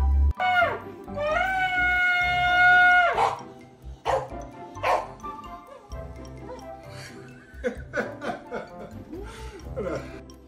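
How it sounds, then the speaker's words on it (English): A dog barks several times in short, sharp bursts close by, mixed with a sustained tonal horn-like blast, chuckling and lively voices talking over the background. "When the dog's bark is mightier than the shofar's blast"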